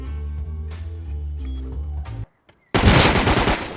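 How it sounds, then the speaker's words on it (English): Burst of gunfire from another player in the survival game Rust, a loud dense rattle of rapid shots after a stretch of steady tonal music and a short gap of silence. "I didn't quite like you shooting at me right there."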